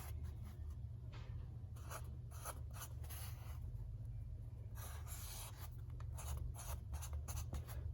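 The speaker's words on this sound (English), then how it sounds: "Just going to draw this here really quick." A pen sketching a relay wiring diagram on paper gives close, continuous scratchy strokes in irregular bursts over a steady low background hum, with no voices.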